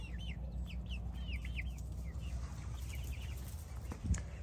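Several chickens cluck and call in a farm enclosure, a busy overlapping series of short rising and falling clucks close by, over low steady background rumble, with a brief thump near the end.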